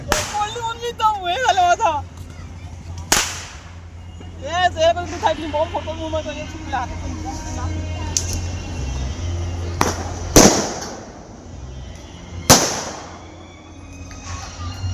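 Firecrackers go off during a Diwali dawn celebration. Several sharp, loud bangs crack out at irregular intervals, with one pair close together, while people talk and shout nearby.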